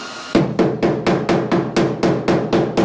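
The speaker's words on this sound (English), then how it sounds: "I'll just give this a light massaging with the hammer" A hammer strikes the bare metal body of a Camaro in about ten even, ringing blows spaced roughly a quarter second apart, close and loud with no talking.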